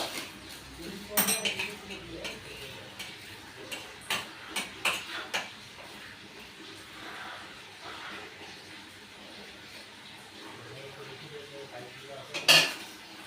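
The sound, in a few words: fried red amaranth greens being served onto a plate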